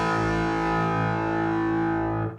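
A distorted electric guitar strikes a single root-and-fifth power chord in a heavy rock style, letting it ring loud and sustained before it cuts off abruptly.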